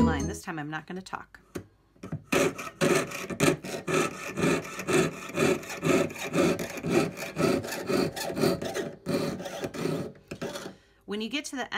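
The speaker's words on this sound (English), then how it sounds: "And then back to sawing the straight line." A jeweler's saw cutting a straight line through metal makes steady, rapid rasping strokes, fairly close, with a short stop partway through and softer scraping at the start and end.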